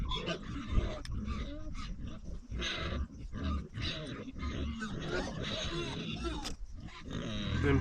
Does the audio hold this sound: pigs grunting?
yes